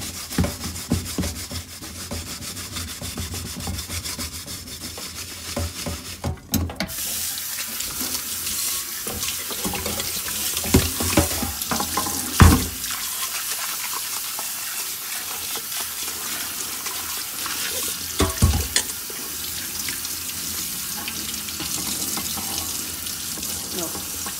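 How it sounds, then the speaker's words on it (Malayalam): A granite-coated kadai is washed at a wash basin under a running tap: continuous splashing water with scrubbing and rubbing, plus a few sharp clunks of the pan against the sink. "ഇനി ഇത് നീറ്റായിട്ട് ഞാനൊന്ന് കഴുകി കാണിച്ചു തരാം"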